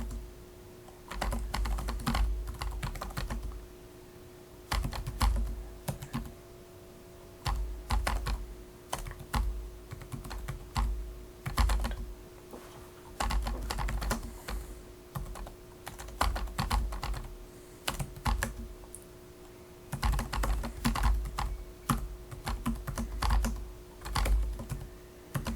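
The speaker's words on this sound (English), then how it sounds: "So just keep typing until you get it all typed in." Steady typing on a computer keyboard comes in bursts of rapid keystrokes separated by short pauses, close and clear, with no voices.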